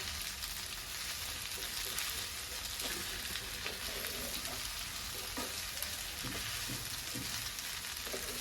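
Pasta being stirred in a frying pan with pizza mix, a steady sizzle running throughout with soft scraping and stirring knocks, close and continuous.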